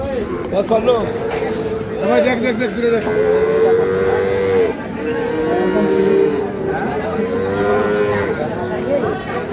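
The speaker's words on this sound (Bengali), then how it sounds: "বাছুর গরু।" Sahiwal calves at the Ambari cattle market moo in repeated long, drawn-out calls that carry over a steady murmur of crowd voices and talk.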